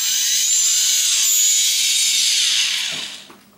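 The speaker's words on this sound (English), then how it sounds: "After that I will give the throttle and I will see the output of the motors." Multirotor motors on a KK 2.1.5 flight control board whine steadily at a high pitch, loud and close, with slightly unsynchronized speeds beating against each other, then wind down and fade near the end.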